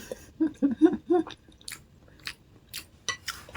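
Close-up crunchy bites and moist chewing of a Thai dessert of taro, sugarcane and chestnut, several quick crunches in a row and then intermittent chewing, with a short stretch of speech mixed in.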